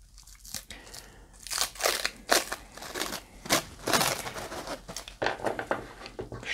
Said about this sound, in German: wir nehmen die Alufolie